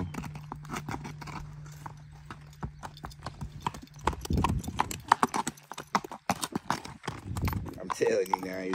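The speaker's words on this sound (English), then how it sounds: "That's a nice horse." Hooves of a 14- or 15-year-old Quarter Horse gelding clip-clop in a steady walking rhythm, close and fairly loud, with people talking over and between the hoofbeats.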